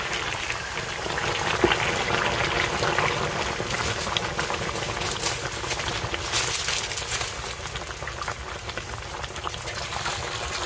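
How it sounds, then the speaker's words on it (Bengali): Hot water poured into a pot of simmering country chicken curry, a steady broadband rush and bubbling hiss that runs continuously throughout at an even, fairly loud level with no talking. "এবার পাশে আমার গরম জল রয়েছে, এই গরম জল আমি দিয়ে দেবো।"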